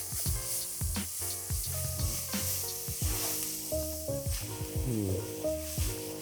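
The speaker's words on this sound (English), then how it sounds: "now with the super nicely diced, diced pork belly, we're going to put it in" Diced pork belly sizzles in a pan in a home kitchen, a soft continuous hiss sitting beneath prominent tonal background music with shifting notes.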